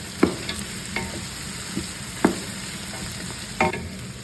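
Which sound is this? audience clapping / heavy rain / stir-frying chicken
stir-frying chicken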